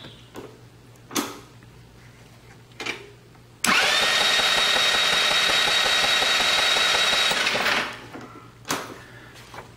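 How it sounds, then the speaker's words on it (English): The electric starter of a GY6 scooter engine cranks with a loud, steady whir for about four seconds during a spark test, framed by a few short clicks and knocks before and after. "So now we will turn on the key and hit the starter button and see if we have a strong spark."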